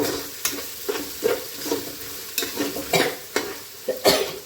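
Ingredients are stirred and sautéed in a pan for fish head curry, a steady sizzle broken by repeated scraping strokes of a spoon against the pan, close and fairly loud.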